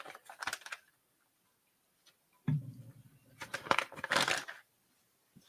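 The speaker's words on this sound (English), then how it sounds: "That's the sound of shuffling mail." Paper mail envelopes being shuffled by hand, close up: a few quick rustles, a pause, then a longer run of crisp papery slides and flicks.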